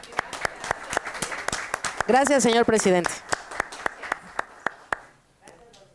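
Sharp, evenly spaced claps ring out through a council session, a steady rhythm of single hand claps mixed with a brief burst of a voice, continuing under and after a short spoken thanks.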